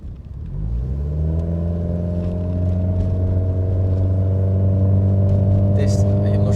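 Porsche 944 with a half stainless exhaust accelerating, a throaty growl that builds from a rough start into a steady, rising engine drone, fairly close and continuous throughout.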